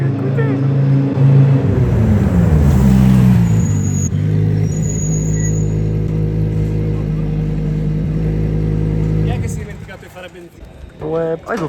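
KTM motorcycles race on a circuit in Portugal, their loud, buzzing engines rising and shifting in pitch as they pass close by, then dropping away sharply near the end.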